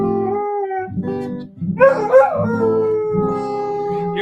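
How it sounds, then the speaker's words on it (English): A big dog howls in long, wavering tones, rising and falling over several seconds close by, with tonal music-like harmonics underneath. "Your howling distracted me."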